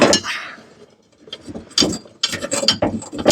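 Wrench working at a stuck nut and bolt on a John Deere Z525 zero-turn mower, a few sharp metallic clicks and ratcheting bursts with short pauses between, close up.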